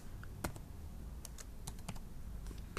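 A password is typed on a Windows 7 laptop keyboard, with quick, uneven key clicks in short bursts, close and fairly quiet against a faint room hiss.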